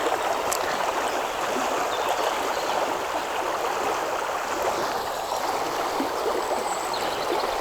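A river in Indre, France, swollen and fast after storm Diego, rushes in a steady, dense broadband roar that holds at an even loudness throughout, with no voices.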